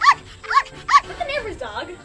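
A neighbor's dog gives three short, evenly spaced barks close by, followed by softer whining, yelping sounds in a quiet setting.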